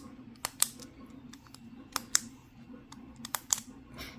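A Sharpie Click retractable marker clicked open, giving a few sharp, close plastic clicks spaced apart over a low steady room hum.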